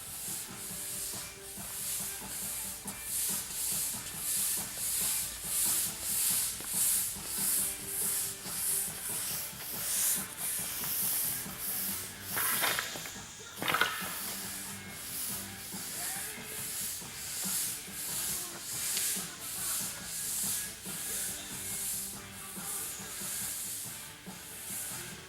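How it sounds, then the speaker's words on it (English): A broom sweeps back and forth across a floor coated with CDP Smooth Floor Sealer, giving steady rhythmic bristle swishes at a regular pace, close and continuous with no talking. "just run over it with the broom real quick"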